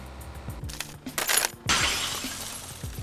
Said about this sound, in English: I made this glass platform that breaks when you drive on it.